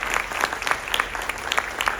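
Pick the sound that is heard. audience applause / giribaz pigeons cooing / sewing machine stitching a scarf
audience applause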